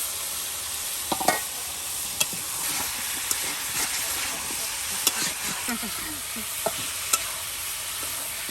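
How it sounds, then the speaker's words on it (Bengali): Chicken and potatoes fry with spices in a pan in a village kitchen, a constant close sizzle and hiss with scattered stirring scrapes and light knocks. "আর এদিকে মাংস তার সাথে আলু ভেজে নেওয়া হচ্ছে।"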